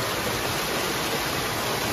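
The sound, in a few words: waterfalls in a forest near Dehradun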